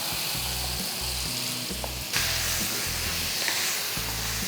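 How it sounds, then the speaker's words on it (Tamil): Masala-coated chicken fries in a pan with half-softened onion and tomato for a pepper coconut-milk chicken gravy, a continuous hissing sizzle that grows a little louder midway, heard under background music without talk. "வெங்காயம் தக்காளி பாதி வதங்கினதுக்கப்புறம் நம்ம சிக்கனை இதில் சேர்த்துக்கலாம்."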